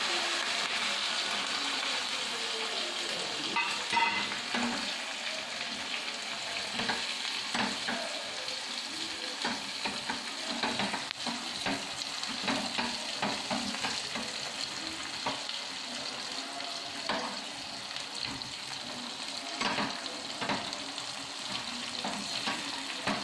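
Chopped chili, curry leaves and hing sizzle steadily in hot oil as a tempering for Gujarati dhokla, a dense, continuous crackling fry with scattered sharper pops, close and loud throughout with no talk.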